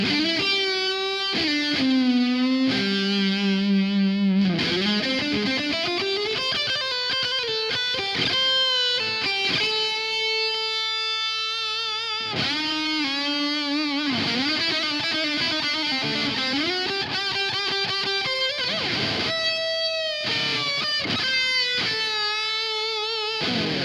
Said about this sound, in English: just want to demonstrate some of the lead tones I dialed in, and it came out pretty cool.